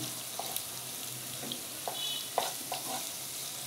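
Whole spices fry in a pan beside onions: bay leaf, cinnamon, peppercorns, green cardamom, nuts and raisins. A steady soft sizzle runs under scattered light stirring clicks and taps, fairly quiet and close.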